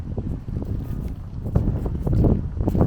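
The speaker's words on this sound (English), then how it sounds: "Kind of windy up here." Gusty wind buffets the microphone high on a lookout over Kyoto with its moat and distant mountains, a steady low rumble swelling and easing across the clip with no talk.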